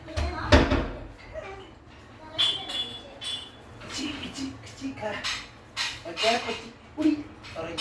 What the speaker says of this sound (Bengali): এগুলোকে আমি এখন ভালোভাবে একটু মিশিয়ে নিচ্ছি।